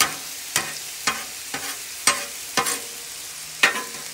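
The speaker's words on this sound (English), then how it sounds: "And you put it on your skillet, a little bit of oil to soften up" Cubed squash softening in a little oil on a skillet, a low background sizzle punctuated by about eight sharp, evenly spaced spatula scrapes and taps close by.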